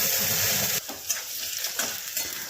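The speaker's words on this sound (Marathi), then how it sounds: "कढई छान तापवलेली आहे मी, त्याच्यामध्ये छान बटाटे परतवून घ्यायचे" Potatoes fry in a little oil in a well-heated kadai, giving a loud, steady sizzle that drops partway through as they are stirred, with scraping and clinks of a spoon against the pan.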